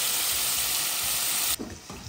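Steak fries in a pan with a loud, close, continuous sizzling hiss that cuts off abruptly near the end, leaving only faint clatter.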